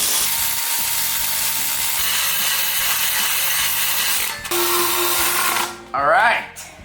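Header bolts on a cammed police car are ratcheted tight through a very long wrench extension, giving steady close clicking and grinding that pauses briefly near the end as a voice comes in.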